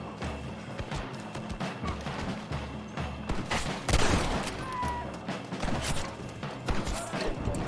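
Gunfire in Red Dead Redemption: a dense run of sharp, loud shots and cracks, some close and some farther off, with a heavy blast near the middle, while someone talks under the shooting.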